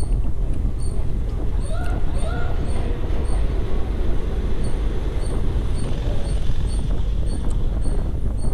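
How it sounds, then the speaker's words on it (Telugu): The Kakinada Town Express 17249 pulls out of Eluru railway station with a loud, steady rumble of rolling wagons, while a high repeating beep chirps at regular intervals over the din. "బయలుదేరింది కాకినాడ టౌన్ ఎక్స్ప్రెస్ 17249."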